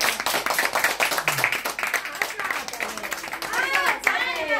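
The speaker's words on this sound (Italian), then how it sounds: "Un applauso." Guests at a birthday party clap rhythmically close by, with excited voices and someone talking over the clapping.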